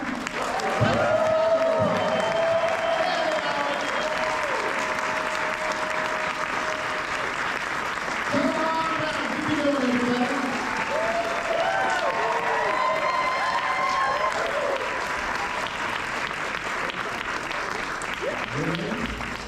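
Sustained, loud audience applause with cheering fills a Fan Expo Dallas 2024 panel as two guests are brought on stage, steady for the whole stretch with voices faintly audible through it.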